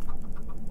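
A Minecraft chicken gives a brief, close cluck, a short run of soft repeated notes with no talking.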